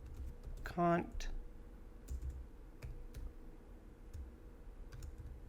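Code is typed on a computer keyboard in a rapid burst of close clicks followed by scattered single keystrokes, with someone speaking quietly over the typing.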